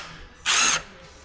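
Short burst of a power drill whirring as it drives a bolt on an engine, loud and close, lasting about a third of a second between quiet moments.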